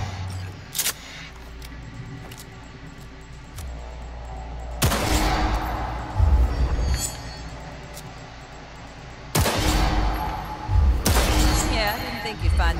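Gunfire in Cyberpunk 2077 during a target practice session: a few loud, sharp shots with quiet stretches between them over a low background hum.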